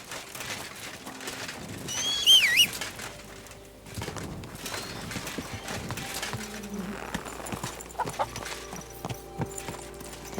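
Horse hooves clip-clop at a steady gait while riding in Kingdom Come: Deliverance II, moderately close, with birds cooing and chirping in the background and light ambient game sounds.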